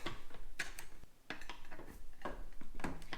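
A butter knife prying and clicking at the visor of a Scorpion EXO AT-950 dual sport helmet. It makes several close, sharp ticks and scrapes in uneven bursts, with quiet gaps between them.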